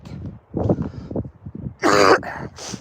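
Someone on a walk at Sella del Diavolo in Cagliari coughs and clears their throat several times in a row, close and fairly loud, ending in a sharper burst of hacking coughs.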